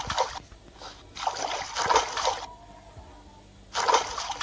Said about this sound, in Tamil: இங்கே ஓடுறது தண்ணியா இல்லை சாக்கடையான்னு தெரில கைஸ்